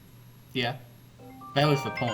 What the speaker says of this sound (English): Someone has an alarm going off.